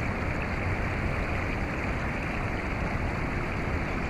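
Continuous broadband rush of water flowing behind an outdoor spot with a nice view, steady and fairly loud throughout without pauses or talk.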